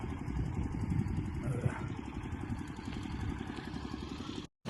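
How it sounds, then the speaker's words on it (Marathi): A small water pump engine chugs steadily nearby with a rapid, rattling pulse, running without pause until a brief dropout at the end. "पाणी काढण्यासाठी पंप चालू आहे"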